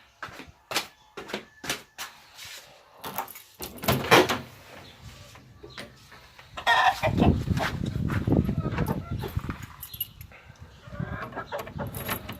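Bantam hens clucking inside a henhouse, with door and rustling sounds early on and a busier stretch of nearby clucking and scuffling in the second half.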